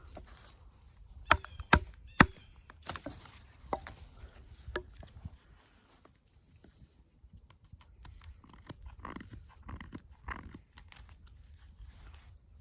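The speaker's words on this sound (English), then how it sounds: "Square notch there, and do a tent stake type of notch." A Demko Armiger 4 knife carves a tent-stake notch into wood, giving a run of sharp, close cuts and chops, several crisp strikes early on, then quieter scraping and whittling.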